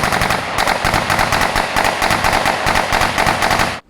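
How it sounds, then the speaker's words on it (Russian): Rapid automatic gunfire during a Rosgvardia Komi training exercise at Sokolovka near Syktyvkar, rooms filled with smoke and ejected casings: loud, close, relentless bursts of shots that stop abruptly at the very end. "Шум от выстрелов не смолкает."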